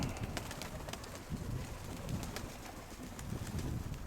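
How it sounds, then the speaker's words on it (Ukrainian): Low, soft pigeon coos repeating over a constant windy outdoor hiss, with a few faint higher chirps scattered in. "Сіра, сіра підходить голубочка."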